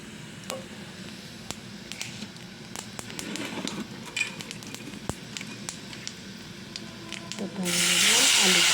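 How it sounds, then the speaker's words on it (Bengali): Nigella seeds dropped into hot oil in a kadai sizzle as a broad hiss swells near the end, preceded by quieter kitchen clatter and faint frying crackle. "তেল গরম হয়ে গেছে এবার দিয়ে দিলাম কালো জিরে ফোড়ন"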